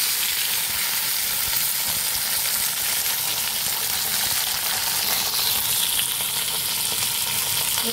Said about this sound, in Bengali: কুঁদরিগুলো দিয়ে দিলাম। নেড়ে চেড়ে মিক্সি করে নিয়ে